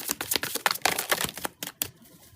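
Tarot cards are shuffled close by in quick rapid riffles, a burst of crisp papery flutters that stops abruptly, followed by a brief quiet tail.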